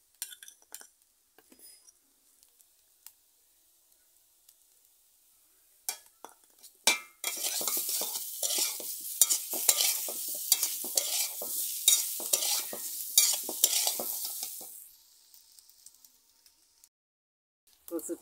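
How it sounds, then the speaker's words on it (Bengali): Taro (kochu) sizzles loudly while frying in a pan, scraped and stirred with a utensil in quick clinks for several seconds after a few quiet taps, then fades back toward silence. "কচুটা ভাজা ভাজা হয়ে গেছে, লাল লাল হয়ে গেছে।"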